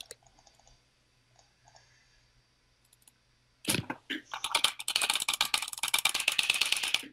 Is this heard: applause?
no